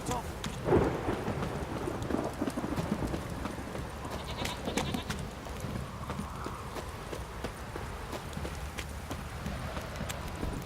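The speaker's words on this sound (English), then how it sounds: "This downpour's a bastard, it is." Rain falls steadily in a video game scene as thunder rumbles, with horse hooves clip-clopping through the downpour at a moderate, fairly quiet level.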